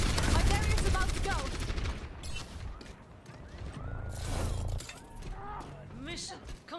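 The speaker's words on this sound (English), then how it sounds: "My barrier's about to go." Overwatch barrier shield shattering under gunfire, opening with a loud crackling burst of breaking and rapid shots, followed by scattered impacts, mechanical clatter and game voices over the ongoing fight.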